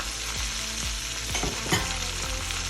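Cauliflower and broccoli with bell pepper and carrot fry in garlic butter in a pan, giving a steady loud sizzle broken by a few scraping stirs as the vegetables are tossed.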